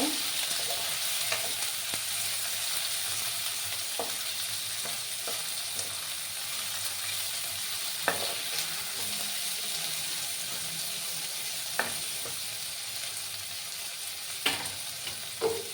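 Ingredients sizzling and being stirred in a pan while cooking a Sylheti flat-bean dish, a steady frying hiss with occasional spoon scrapes and knocks against the pan.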